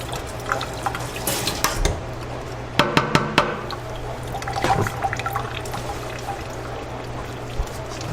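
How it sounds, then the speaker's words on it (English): Running water splashes and pours close by, with a few sharp metallic clinks and taps of a knife blade against a sink, rinsing the knife while harvesting microgreens. "I'll just rinse the knife off quick with some water"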